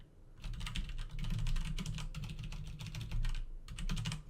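Rapid clicking of a computer keyboard as someone types in quick bursts with short pauses, close and fairly quiet.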